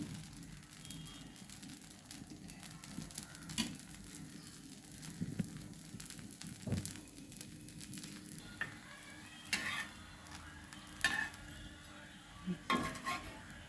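Mudakkathan keerai dosa fries in oil on a pan, a low steady sizzle broken by occasional scrapes and clinks of a utensil against the pan, all quite faint.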